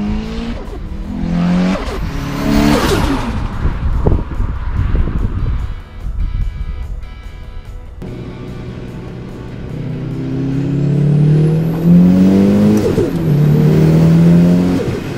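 Car fitted with an upgraded HX35 turbo accelerating hard on a test drive, engine revving up through rising and falling pitch sweeps with gear changes, loud and close throughout, no talking.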